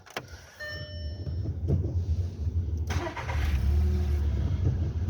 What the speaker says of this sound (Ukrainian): Зараз автомобіль заведу, покажу як працює.